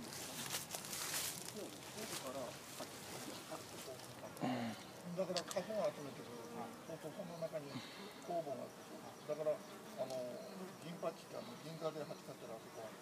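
Japanese honey bees (Apis cerana) at a small hive, a steady close insect hum running throughout beneath a voice speaking.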